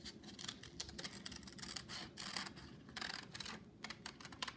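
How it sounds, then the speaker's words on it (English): Scissors snipping around paper squares along black lines, a rapid run of close, crisp cutting clicks and rustles that keeps going in bursts with brief gaps, no voices. "we just cut on the black line"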